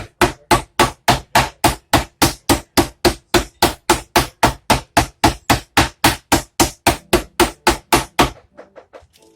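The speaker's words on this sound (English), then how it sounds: "we're going to beat the snot out of it with the rigid edge" Steak being flattened with the rigid edge of a meat tenderizer for country fried steak: around thirty loud, close, evenly paced thuds in a fast steady rhythm, ending abruptly.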